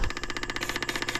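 Oliver 1250 tractor with a FIAT 415 petrol engine catching and firing up, rapid regular combustion pulses close and loud after an initial thump, settling into a fast, even beat.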